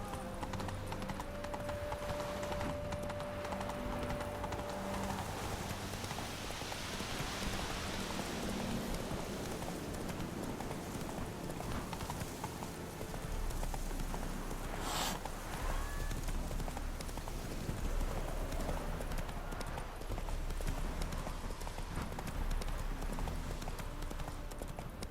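Roach, the horse from The Witcher 3, gallops with a rapid, continuous drumming of hooves over outdoor ambience, holding at a steady moderate loudness throughout.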